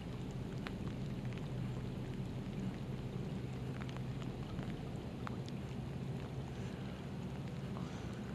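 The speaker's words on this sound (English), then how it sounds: "I'm out fishing in the rain in February" Steady rain falling during February bobber fishing for bluegills, a continuous dense patter with occasional heavier drops, close and even, no talk.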